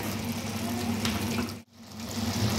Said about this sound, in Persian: 1 لیوان باید بهش آب اضافه کنیم